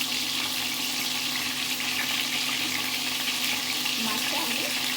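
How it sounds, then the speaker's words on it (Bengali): Prawns fry lightly in hot oil in a pan and are turned over, giving a steady broadband sizzle that holds evenly throughout, close and fairly loud. "মাছটা আমি হালকাই ভাজবো, তো একদিকে ভাজা হয়ে গেছে, আর একটা দিকে আমি উল্টে পাল্টে দিচ্ছি।"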